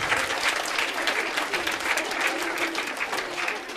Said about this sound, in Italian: E un applauso grande al 166esimo circolo didattico Antonio Gramsci